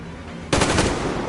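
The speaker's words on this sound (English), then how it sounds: "Taking fire!" Automatic gunfire from the video game Metro Exodus erupts suddenly after a quiet moment, a rapid burst of close, loud shots that rattles on to the end.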